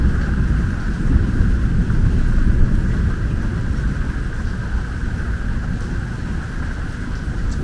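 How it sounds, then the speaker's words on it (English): During Hurricane Milton in Orlando, a long, low thunder rumble rolls on continuously, a heavy broadband roar blended with wind buffeting and rain, steady and loud throughout. "A little bit more thunder, some lightning."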